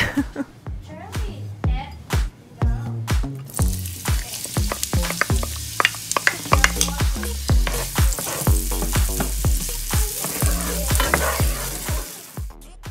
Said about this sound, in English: go ahead and saute your onions